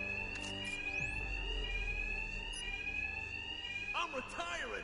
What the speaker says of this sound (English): The attacks will be covered by the noise of the alarm.